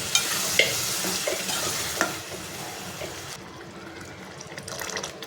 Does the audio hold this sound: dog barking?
no